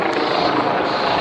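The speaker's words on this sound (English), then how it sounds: "Helicopter up in the air." Helicopter flying overhead above a city street during a police response, a steady broadband rotor and engine roar holding loud and constant throughout the short stretch.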